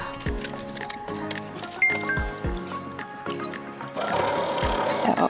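A home sewing machine stitches a foundation paper pieced leaf quilt block at a short stitch length, its steady mechanical whir and clatter running in bursts with soft clicks, close and moderately loud, with no talking.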